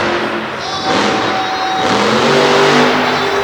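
A monster truck engine at a Du Quoin, Illinois monster truck event revs hard and sustained, a loud rising roar that holds steady and swells toward the end.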